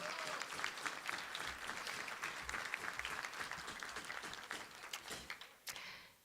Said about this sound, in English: now you can applaud for all of the guests